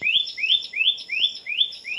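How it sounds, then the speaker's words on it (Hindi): Birds chirp on an early morning in Uttarakhand, near a Bhimal tree: about six quick rising tweets repeat in a steady rhythm, clear and fairly close, with no talking. "सुबह सुबह देखो चिड़ियों की जो चहचहाट वो कितनी सुंदर लगती है"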